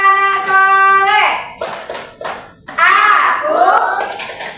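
In a classroom, a group of children chants a rhythmic Indonesian clapping rhyme, sing-song voices punctuated by bursts of sharp, unison hand claps, close and loud.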